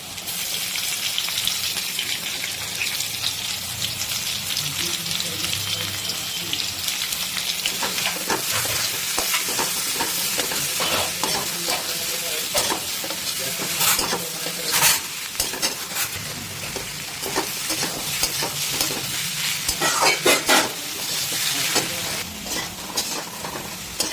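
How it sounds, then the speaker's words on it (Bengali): Potatoes and freshly added chopped onions fry in a pan with a loud, continuous sizzle and crackle, dense spattering bursts rising and falling as the mixture is stirred, with no voices. "এবারে দিয়ে দিচ্ছি কেটে রাখা পেঁয়াজ"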